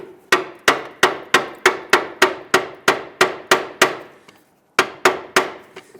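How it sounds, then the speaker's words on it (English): Metal strikes tap a CV axle into the differential of a 2011-2021 Jeep Grand Cherokee, using a pry bar on the inboard end: a quick, even run of about a dozen sharp, ringing clanks, a brief pause, then three more. "Tap it in until the CV axle is fully seated inside the differential"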